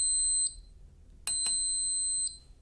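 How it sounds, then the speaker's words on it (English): A piercing high-pitched electronic beep from the buzzer on an Arduino multifunction shield sounds briefly, pauses, then a second steady tone holds for about a second before cutting off cleanly. "buzzer will be beeping for 1 second"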